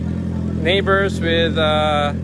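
A Honda CB650R motorcycle's exhaust idles nearby with a low, steady throb, while someone talks over the engine.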